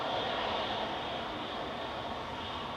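An EasyJet Airbus A320-200 in from Amsterdam moves at Manchester Airport, its engines a steady, broad jet roar heard from some distance, unchanging throughout, with no voices.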